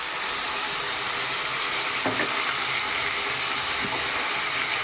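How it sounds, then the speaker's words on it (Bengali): Ginger, garlic and onion paste sizzles in oil for a pangasius fish curry, a loud steady hiss broken by a couple of brief stirring scrapes. "এবারে এর মধ্যে দিয়ে দেব আদা রসুন আর পেঁয়াজ বাটা।"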